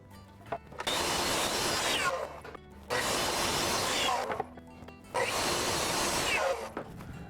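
Saw cuts through wood pieces for a splayed dovetail stool in three long loud bursts of rough, steady rasping, separated by short pauses with quieter handling noise.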